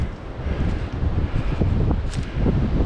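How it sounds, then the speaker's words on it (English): Strong gusting wind at an exposed hilltop buffets the microphone with heavy low rumble and roaring bursts, continuous and close for the whole stretch. "it's really windy up here"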